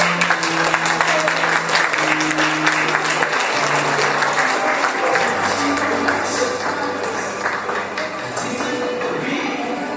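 Wedding guests give sustained applause as the bride enters, a dense, steady clatter of many hands heard throughout, with a low musical tone and some voices beneath it.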